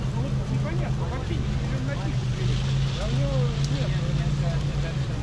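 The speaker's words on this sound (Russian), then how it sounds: "Так, ну Тингер пока что потихоньку пробует ехать." A Tinger amphibious all-terrain vehicle creeping slowly through a swamp near Saint Petersburg, its engine a steady low drone with water sloshing around it, while people talk over the noise.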